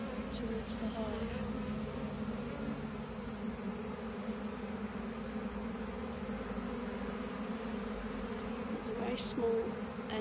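A honeybee swarm hums steadily as the bees walk down into a hive during a natural beekeeping capture, a close, even drone with a few louder passing buzzes.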